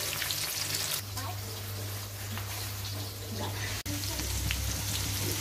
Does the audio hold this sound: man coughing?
no